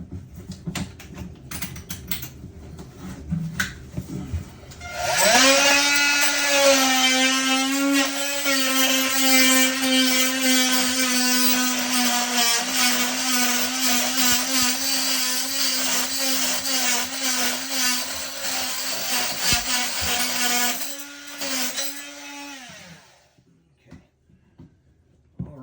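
A power tool grinds or cuts through the metal nuts on a pair of toilet floor bolts, running as a loud, steady whine for about fifteen seconds with slight pitch dips, then stopping abruptly.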